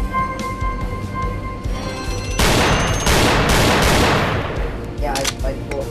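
In the VR shooting game Gun Club VR, a loud, dense volley of rapid gunfire bursts out midway after a quieter stretch of scattered game sounds, then trails off into a few lighter clicks.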